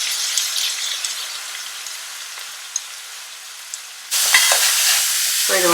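Kara kuzhambu, a tangy tamarind curry, sizzles and bubbles steadily in a pan as the oil separates, a dense crackling hiss that grows suddenly louder partway through, with no voices.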